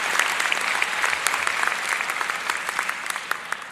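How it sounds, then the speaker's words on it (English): Audience applause at a college commencement ceremony, a steady, dense clapping from a large crowd that fills the room evenly throughout, loud and with no voices over it. "Please join me in giving a round of applause."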